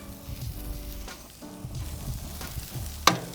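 Vegetables sizzle on a grill ahead of ribeye steaks in a soft, steady frying hiss, with one sharp click near the end.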